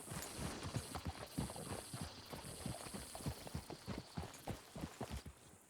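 Horse hooves clip-clop at a steady walking pace in Red Dead Redemption 2, a continuous run of close, even hoofbeats over a faint ambient hiss with no talking.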